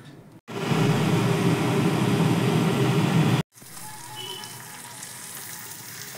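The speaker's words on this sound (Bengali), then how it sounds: "ততক্ষণ অবধি মশলাটা ভাজবো যতক্ষণ অবধি না সুন্দর একটা মিষ্টি মশলা ভাজার গন্ধ বেরিয়ে আসছে" Spice paste fries in hot oil in a pan for a Bengali pabda fish tel jhal, a loud steady sizzle that cuts off briefly, then continues as a quieter, softer crackle.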